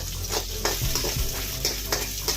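Onions, with garlic, sauté in a pan for ridge gourd chutney. A steady sizzle runs under repeated scraping stirs of a spoon against the pan, close and moderately loud.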